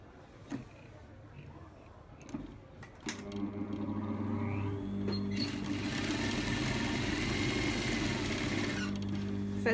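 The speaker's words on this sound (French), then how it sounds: "Piquez l'ourlet." A sewing machine stitches a skirt hem in a steady, continuous mechanical whir that starts a few seconds in and runs close and loud to the end, after a few faint knocks and handling sounds.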